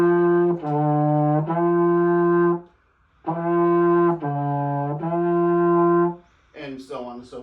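A brass instrument plays a slow warm-up of sustained, buzzing tones. The first phrase starts in first position on F and steps down and back up, then the pattern repeats. A voice starts speaking at the end.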